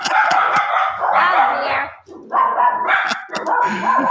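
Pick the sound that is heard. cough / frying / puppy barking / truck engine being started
puppy barking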